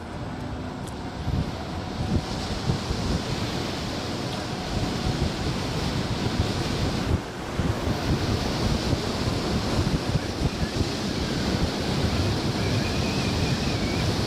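Heavy headwind buffets the microphone while riding an MSX 100V electric scooter, a loud, continuous roaring rush with gusty thumps and no voices.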